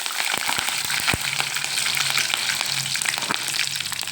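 Curry leaves crackle and spit in hot oil for tomato sambar, a loud, close, continuous frying hiss dotted with sharp pops.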